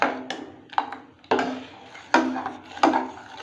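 A utensil stirs a jackfruit mixture in a pan, knocking and scraping against the pan in a few distinct, close taps with short scrapes between them.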